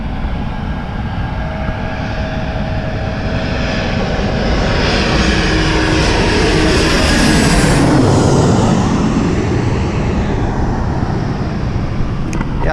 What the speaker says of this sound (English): you can actually park here and you can watch airplanes